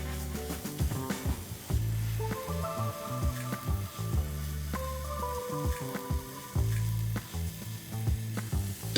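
Masala being sauteed and mashed in a pan for boiled egg tikka, with butter added, giving a steady sizzle under repeated scraping and pressing strokes, close and fairly loud, with no talk.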